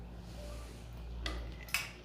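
Metal cookware clinking while mutton fries with onion and tomato: two brief scraping clanks of a utensil against a pot over a low, quiet background hum.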